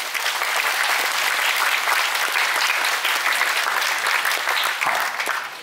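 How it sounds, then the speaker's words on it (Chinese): A school string orchestra's audience claps warmly and continuously, a dense, even wash of applause from a sizeable crowd held at steady loudness throughout. "我们一起用热烈的掌声"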